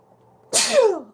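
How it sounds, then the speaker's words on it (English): A single loud, close sneeze bursts out suddenly after a moment of near silence, trailing off quickly. "I'm going to sneeze."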